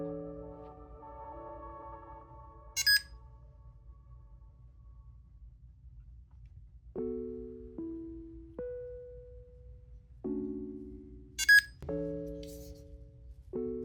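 A Pebblebee tracker plays its alert: a quiet melodic sequence of electronic tones in short stepped notes, with a couple of brief high chirps. It repeats after a pause, over a low background hum.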